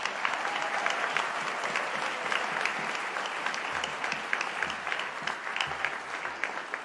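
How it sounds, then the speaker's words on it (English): Steady audience applause fills a university graduation ceremony hall, a dense even patter of many hands clapping with no break. "please, a round of applause"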